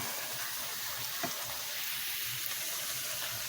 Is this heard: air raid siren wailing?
no